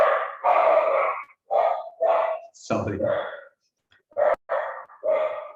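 An adopted dog barks in a series of about eight sharp, loud bursts close to the microphone, separated by short pauses, with a brief spoken word in the middle.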